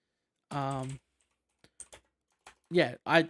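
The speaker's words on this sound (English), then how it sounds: "I'm in the middle of typing something" Typing on a computer keyboard, heard as a few soft, sparse clicks in quiet gaps between brief bursts of nearby speech.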